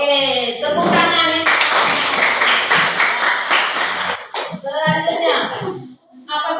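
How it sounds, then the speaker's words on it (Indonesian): Children in a fourth-grade classroom clap their hands together in a burst of dense, lively applause that lasts a few seconds. Young voices chatter before and after it. "tepuk tangan"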